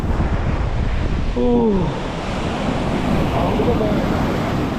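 Ocean surf washing onto a beach at Pondicherry, a steady broad wash of breaking waves with wind buffeting the microphone, and a brief tonal sound rising over it early on.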